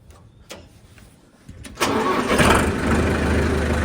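A farm tractor engine cranks briefly and catches, then settles into a loud, steady diesel rumble close by.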